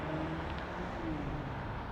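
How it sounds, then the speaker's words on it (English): Faint, distant road traffic hums and swishes past, a low continuous drone of vehicles with no voices. "You can hear that traffic noise."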